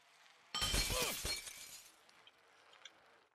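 Glass shattering in the Happy Wheels video game, one sudden loud crash with ringing shards that fades into a quieter tinkling tail.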